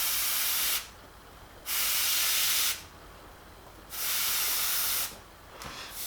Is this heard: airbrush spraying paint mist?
yes